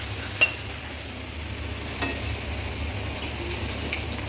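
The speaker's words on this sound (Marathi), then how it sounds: "हे बघा आपण वड्या तळून घेऊया" Vada fritters frying in hot oil, a steady soft sizzle with a couple of light utensil clinks against the pan, close and alone with no talking.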